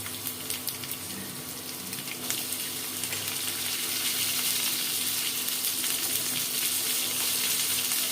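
Pointed gourd and chillies frying in hot oil make a loud, continuous, close sizzle that grows slightly denser and hissier partway through.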